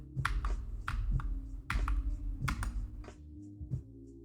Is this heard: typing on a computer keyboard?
yes